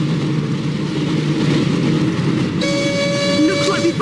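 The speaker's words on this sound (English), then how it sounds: "Looks like we found the train, Ron." Hogwarts Express steam train from the Harry Potter and the Chamber of Secrets PlayStation game, a steady rumbling run with a sustained whistle-like tone sounding in over the final second and a half, loud throughout.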